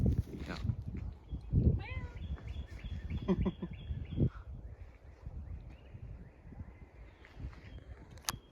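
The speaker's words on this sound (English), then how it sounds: "That cat." A cat meows several times in a row, with bird chirps and people talking nearby, then fades into quieter background noise.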